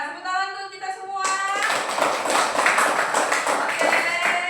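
A classroom group of schoolchildren claps together. A voice is heard first, then loud, steady, close clapping takes over and continues to the end.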